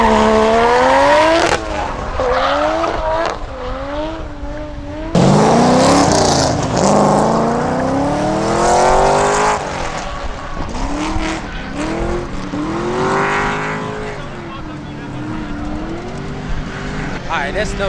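Supercharged Dodge Hellcat V8 revving loudly and close by, its pitch climbing and falling through several hard throttle blips, with people talking over it.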